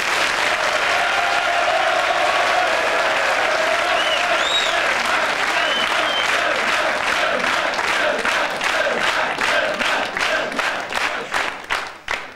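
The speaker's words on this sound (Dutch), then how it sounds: "Mag ik u applaus voor de winnaar van de veldrit in Overboelaren van vandaag, Germain Lippens." A studio audience applauds loudly and continuously, with a few cheers early on, the clapping thinning into separate claps near the end.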